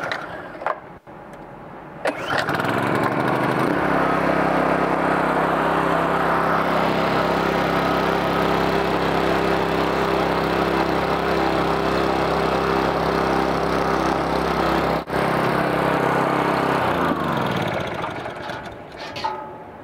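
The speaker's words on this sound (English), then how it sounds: "So let's start by simply starting the engine up." A small engine on a honey wagon pump-out system starts and runs at a steady, loud drone, holding a constant pitch for most of the clip before shutting down near the end.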